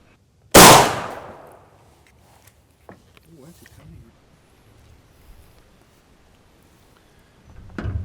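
A single loud shotgun blast with a new shell load, fired at a pattern target set 30 yards out at an outdoor range, cracks sharply and decays quickly, followed by faint handling noises and a low rumble near the end.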